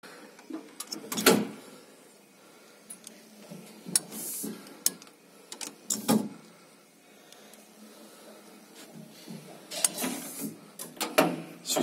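A Schindler R series lift without inner doors runs at the Belgian coast, giving scattered mechanical clunks, clicks and door-like knocks over a low hum, with a few louder bangs spread through the clip.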